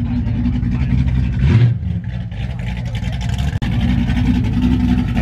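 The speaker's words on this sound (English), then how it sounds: "nothing I like more than hearing a sound of a well-maintained vehicle" A Chevrolet Corvette engine idles and rumbles steadily with a deep, throaty low end, briefly swelling as if revved, heard up close.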